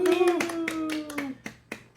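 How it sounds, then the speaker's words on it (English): A person gives a handful of sharp hand claps, close and fairly quiet, with uneven gaps between them and brief voice sounds mixed in. "Kyle, give a little clap"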